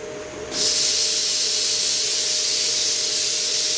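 Metal being cut for a homemade Thor's hammer in a shop, a loud steady hiss that bursts on after a quieter start and holds constant, with a faint tonal hum underneath and no talking.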